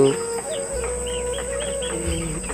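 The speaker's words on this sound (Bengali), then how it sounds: "এগুলো আমার দেশি মুরগির বাচ্চা" Young desi chicks, around 17 to 25 days old and kept in a cage, give short, high, repeated peeps over a steady background hum.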